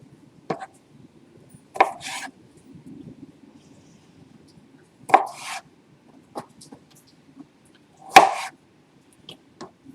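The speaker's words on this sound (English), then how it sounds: "I'm just gonna keep chopping with my fingers safely away from the knife" A knife strikes a cutting board in a handful of sharp, irregular chops, close by, with quiet scraping between the louder hits.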